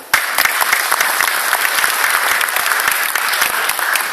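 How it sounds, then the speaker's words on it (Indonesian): A crowd claps loudly and steadily, sustained applause starting abruptly and continuing without pause. "Tepuk tangan."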